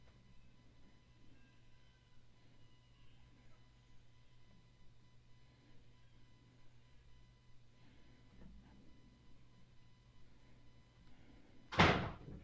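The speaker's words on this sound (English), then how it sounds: "Let me open the door." A house door opens to let a dog out, a faint quiet room hum and then a sudden loud clatter at the very end, close by.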